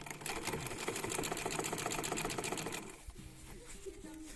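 An electric sewing machine stitches fabric pieces of a recycled palm-straw bag, a fast steady mechanical whirring close up for about three seconds, then stops, followed by quieter handling sounds and brief soft clicks.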